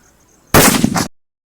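A Diwali day cracker rolled along the ground explodes with a single loud, close blast after a quiet moment. The bang carries a short rumbling tail of about half a second, then cuts to silence.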